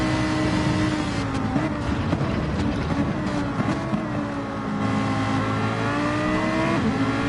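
Ferrari and Lamborghini race car engines roar in a racing video game at the Red Bull Ring, a steady loud drone of high revving with shifting pitch, no voices heard.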